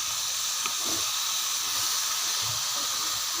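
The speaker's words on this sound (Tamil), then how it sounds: "நல்லா எண்ணெயில் வதக்கணும் கைஸ்." Chopped banana flower sautéing in hot oil in a pan: a steady, even hiss and sizzle that holds throughout at moderate loudness, with faint low clinks underneath.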